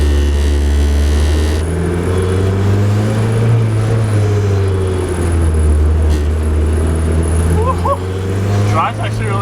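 An off-road Mazda Miata drives along with a steady low engine drone and road rumble heard from inside the car, continuous and fairly loud throughout.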